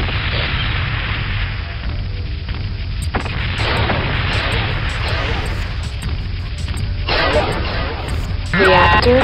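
An enemy mech is destroyed in the MechWarrior 2: Mercenaries video game, with a low continuous rumble and sudden bursts of explosive booms. Voices are heard through parts of it.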